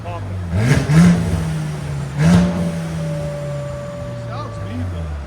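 A Mercedes-AMG C-Class engine, either the C 63 4.0L V8 or the C 43 3.0L V6, revs loudly twice from a steady idle and then settles back to a low drone, with voices nearby.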